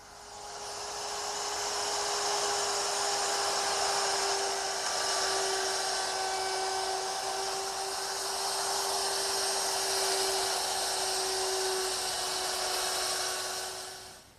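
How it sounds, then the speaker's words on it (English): A woodworking router fitted with a round nose bit plows out material from a wooden piece held in a cradle, giving a continuous high, steady whine throughout at a moderate level, with no talking. "now I'll just lower the router in and plow out the material"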